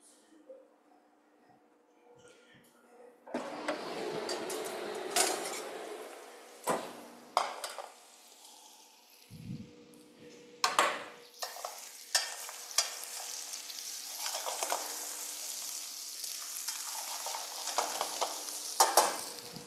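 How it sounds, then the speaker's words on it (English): Bones being stirred as they brown and roast in a pot, giving a steady sizzle and frying hiss with scraping stirs and occasional sharp knocks of utensil on metal, close and continuous with no talk. "For the bones, I just stir again, put them back in, to have them nicely browned and roasted."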